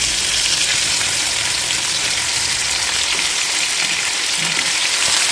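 Chicken leg pieces for biryani fry in hot oil, giving a steady, loud, dense sizzle that fills the whole stretch, with faint stirring underneath.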